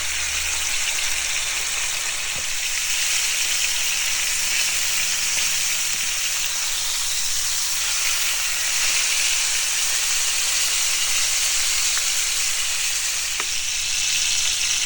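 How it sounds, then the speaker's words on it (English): Steak searing in hot avocado oil in a pan gives a steady, loud, broadband sizzle that holds evenly throughout, with a few faint pops and no talking. "Then I add my steak and let it cook for about 3 minutes on each side."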